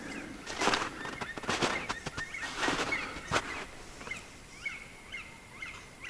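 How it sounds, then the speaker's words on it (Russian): Birds of the kind of nutcrackers or black woodpeckers call in a morning forest near a hut, a series of short, repeated, fairly distant cries spaced through the clip, with a few soft thumps and rustles and no talk. "Кедрачи или кедровики, или как там, черные дятла."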